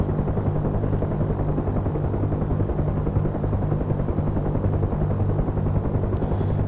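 Helicopter hover taxiing in a flight simulator game, a loud, steady rotor thrum with continuous engine drone throughout, with no talking.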